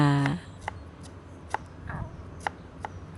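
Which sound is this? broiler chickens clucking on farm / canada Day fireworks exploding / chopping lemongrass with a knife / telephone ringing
chopping lemongrass with a knife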